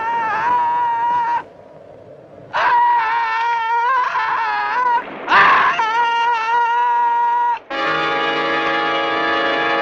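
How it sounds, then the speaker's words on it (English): Sustained, wailing screams of a man being eaten alive in a 1964 horror film, rising and breaking off in several long, loud bursts with strained, tonal cries. "Listen to those screams."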